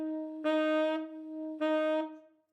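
A saxophone holds a steady tone with two breathy, softened ghost-note swells where air is partly blocked, played alone and fairly quietly.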